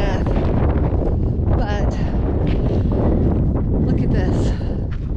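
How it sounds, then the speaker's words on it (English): Strong wind buffets the microphone in loud, rough gusts at Goblin Valley State Park, Utah, with a voice briefly speaking beneath the roar. "It's unbelievably windy here."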